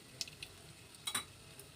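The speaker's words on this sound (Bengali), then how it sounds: "একটু নেড়ে চেড়ে" Bay leaf, cardamom and cloves stirred in hot oil in a pan over a low gas flame, faint sizzle with a few sharp scraping ticks of a spoon against the pan, no talking.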